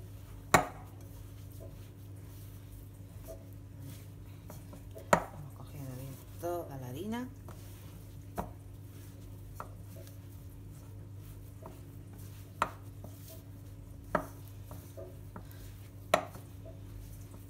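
Gluten-free cheese bread dough being mixed in a bowl with a spoon, heard as quiet, sparse knocks and taps against the bowl over a low steady hum, with a brief voice in the middle.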